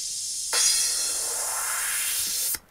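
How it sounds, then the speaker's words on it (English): A sustained burst of bright white-noise riser that kicks in sharply, holds steady for about two seconds, then cuts off. "if I solo the effects, these really long risers"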